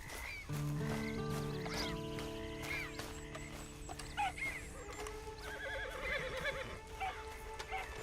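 A horse in the video game Red Dead Redemption 2 neighs loudly and shrilly near the start, followed by further whinnies and snorts over a steady background hum, with no talking.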